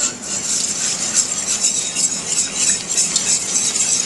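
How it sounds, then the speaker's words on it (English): Continuous wet swishing and scraping of a utensil stirring broth into a roux in a pot, steady and close, with no voices. "you continuously keep stirring so that roux"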